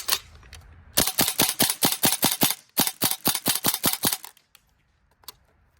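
A Tokyo Marui SAIGA 12k airsoft gun fires a rapid run of sharp, loud snapping shots, a short pause breaking it into two bursts before it stops with a couple of isolated clicks and near silence.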